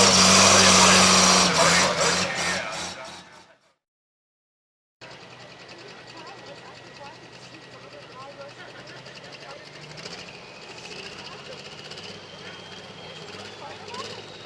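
A tractor in a light limited tractor pull class, running the engine it came with, roars loud and rough for about three seconds before cutting to a brief silence. A quieter, steady mechanical drone with commentary over it follows.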